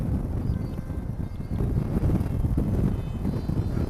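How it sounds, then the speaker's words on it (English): Strong wind roars and buffets the microphone during an FPV flight of an Eachine Fury wing, a steady low rumble across the whole stretch that swells louder in the second half, with no voices. "Lots of wind."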